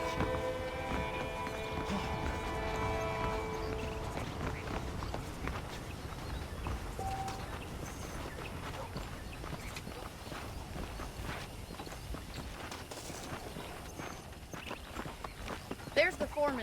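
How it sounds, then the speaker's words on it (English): Horse hooves clip-clop in a steady, soft rhythm in the Wild West video game Red Dead Redemption, under continuous spoken dialogue and ambient background sound. "The horses are saddled up over here."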